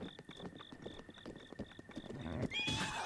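A horse in The Legend of Zelda: Breath of the Wild gives a sharp, loud whinny near the end, preceded by a rhythmic run of hoof clops and game sounds.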